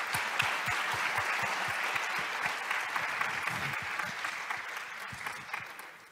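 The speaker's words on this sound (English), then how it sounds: "I think you both deserve a warm applause at this stage." A conference audience gives warm applause, a sustained, even patter of many hands clapping at moderate volume that fades slightly near the end.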